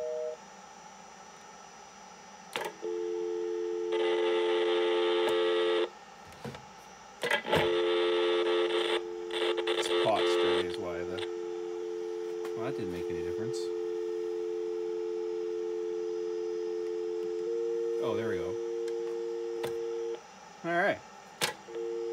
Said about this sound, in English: I have a different dial tone.